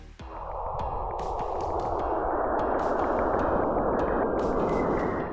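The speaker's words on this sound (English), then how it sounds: "That's the sound of plasma waves moving between Saturn and its moon Enceladus." Plasma waves moving between Saturn and its moon Enceladus, recorded by the Cassini spacecraft and converted to sound, form a dense, steady, hissing roar that swells gradually and carries faint scattered pings and crackles.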